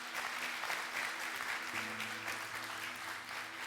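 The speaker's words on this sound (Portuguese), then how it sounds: "Você pode dar uma salva de palmas para o Senhor?" A church congregation claps for the Lord in a soft, sustained round of applause that sounds somewhat distant, with a steady low organ-like hum underneath.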